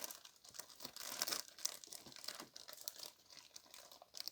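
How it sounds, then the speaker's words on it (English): Small scissors snip and tear tape from a plastic collectible-figure packaging bag, giving a close run of crinkly, crackling plastic rustles and brief tearing sounds with no talk. "we're going to take my little trusted scissors to remove this tape"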